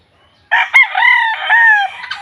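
A pure brood stag rooster called Golden Boy crows once, a loud, close, harmonic cock-a-doodle-doo lasting well over a second after a brief silence, with no talk over it.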